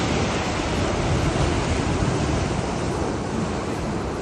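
Borewell water gushing from desert ground in Jaisalmer after a strike 800 feet deep, the jet rising about ten feet; a loud, continuous roaring rush like a waterfall, unbroken and with no voices.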